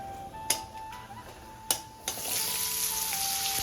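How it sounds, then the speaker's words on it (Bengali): Whole garam masala spices hitting hot oil in a kadai, a couple of sharp clinks followed by a sizzle that swells and holds steady. "কড়াইতে তুলে রাখা তেলগুলো দিয়ে গোটা গরম মশলা ফোড়নে দিয়ে দিলাম"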